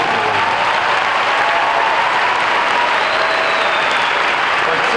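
Crowd applause at a university commencement on Mother's Day, honoring the mothers present; a continuous, loud wash of many hands clapping together, sustained evenly throughout without pause.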